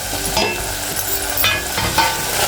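Tomato sautéing in hot oil in a pressure cooker, with a loud, dense sizzle and frying crackle under steady scraping stir strokes, close and continuous.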